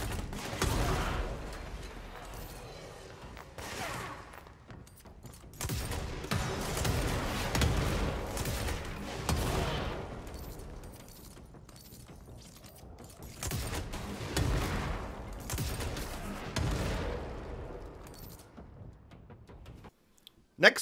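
Weapon fire in the video game Control comes as repeated loud bursts with mechanical clatter and brief gaps, continuing for about twenty seconds.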